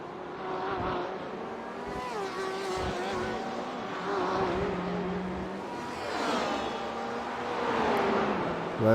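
Race cars lapping Canadian Tire Motorsports Park in a winter series event, engines droning steadily as they pass at a distance, with a commentator talking over the continuous roar throughout.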